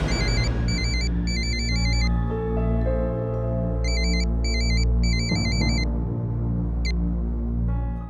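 A phone rings out unanswered: bursts of an electronic ringtone repeat in regular pulses with short gaps, clear and fairly loud over background music.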